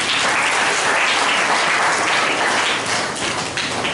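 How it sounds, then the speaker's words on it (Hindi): Church congregation applauding, a dense, steady wash of many hands clapping together for the whole stretch, close and fairly loud, with no break in the sound. "बात विशेष के लिए ताली बजाएंगे।"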